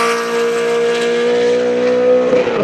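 Loud, sustained engine revving from a modified BMW E92 M3, a steady high-pitched howl with strong harmonics that holds for nearly three seconds and shifts slightly near the end.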